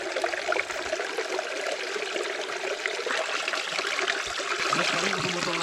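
A small mountain stream flows steadily as a tumbler is refilled, with a continuous close trickling and splashing wash and a few low gurgles near the end.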